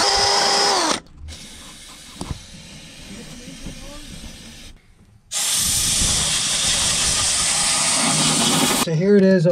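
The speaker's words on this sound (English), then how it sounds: "Or the wire wheel." A wire wheel scrubbing rust off a cracked Mercruiser marine exhaust manifold, loud harsh whirring grind in long bursts separated by brief pauses.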